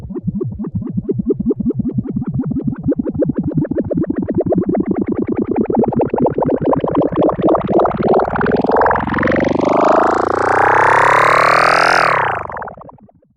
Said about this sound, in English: if we automate this, we should get this sort of phaser type of effect